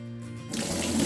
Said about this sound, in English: our beans and just drain the water completely out of them